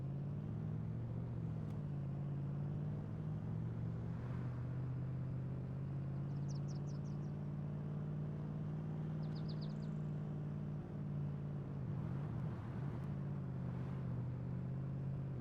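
A Ford Raptor truck in the DayZ video game drives around a town, a steady low engine hum with faint rumble, quiet and continuous, with occasional short chirps in the background.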